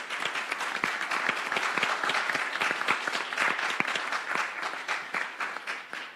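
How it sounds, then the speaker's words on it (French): An audience applauds women panelists at a talk in Senegal, a steady mass of many hands clapping throughout, fairly even and moderately loud, with no talking. "Donc tout le monde devrait applaudir chacune d'entre elles."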